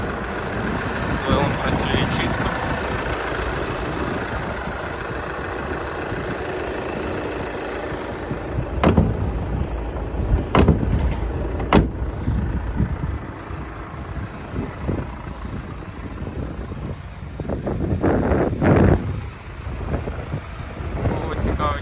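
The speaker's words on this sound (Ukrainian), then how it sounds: "Робота двигуна." A Volkswagen Passat Alltrack 2.0 4Motion engine idles steadily for a long stretch with a low rumble, a few sharp clicks and knocks, and a slight rise in revs near the end.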